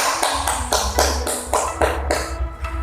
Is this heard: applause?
yes